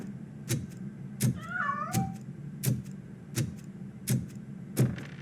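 A cat meows in the RoboCop Rogue City video game, one wavering meow heard among repeated sharp, evenly spaced game thuds over a steady low ambient hum.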